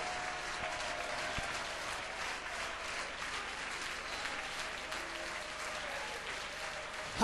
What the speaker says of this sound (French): Give the Lord a hand of praise.